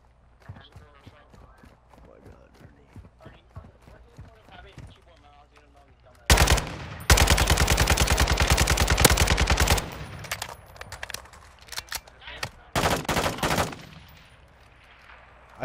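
Bursts of loud rapid gunfire break out, a long continuous volley followed by shorter sharp clusters of shots, with voices talking before and between them.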